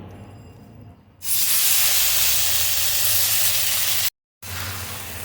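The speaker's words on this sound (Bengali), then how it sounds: "বাটারটা গলে গেছে, এবার এতে ফ্রাই করে রাখা চিকেনগুলো দিয়ে দেবো।" Fried chicken pieces dropped into melted butter over a low flame set off a loud, steady broadband sizzle that starts abruptly, holds for about three seconds, breaks off for a moment, then resumes; there is no talk.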